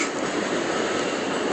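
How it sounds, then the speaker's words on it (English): A passing train gives off a steady, broad rushing rumble, heard at a moderate distance without a break. "If you hear a noise, that's the train passing."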